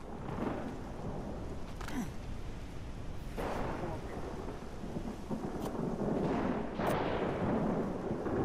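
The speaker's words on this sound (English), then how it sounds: "Get our first thunderstorm." A thunderstorm in ARK Survival Ascended, Scorched Earth map, gives steady heavy rumbling with several sharp cracks of thunder spread across it. It is loud and continuous, and a voice can be heard underneath.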